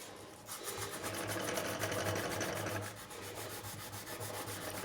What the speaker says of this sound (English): We can just take a bit of sandpaper.